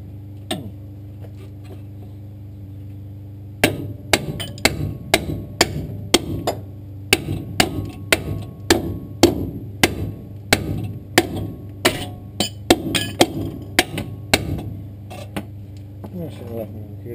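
Sharp metallic strikes repeat in irregular bursts over a steady low hum, with talk in between, like hammering on metal parts.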